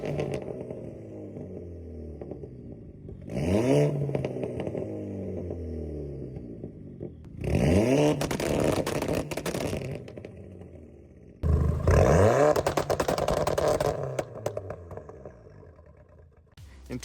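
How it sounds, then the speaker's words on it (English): Exhaust of a modified 260 HP hot hatch converted to all-wheel drive with a Haldex system, revving in three sharp bursts that climb and fall in pitch, with quieter idle burble between them. "Now here are some exhaust clips."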